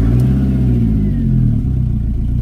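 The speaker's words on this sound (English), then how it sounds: "We've got a blow and a misfire by the sounds of it, but it's life, and we've got good oil pressure." A Fiat Punto GT's freshly rebuilt engine runs just after starting, a loud close idle with uneven, lumpy pulsing from a misfire and a low rumbling drone.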